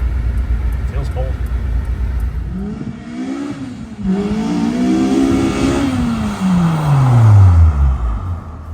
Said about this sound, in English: Uncle Ray, 240 wheel horsepower, fairly stock K24 air conditioning.